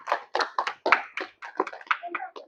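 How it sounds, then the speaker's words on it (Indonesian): Classroom applause for a student in a school volleyball lesson, a short burst of quick, uneven hand claps from a small group, close and clear. "Tepuk tangan buat Nurama."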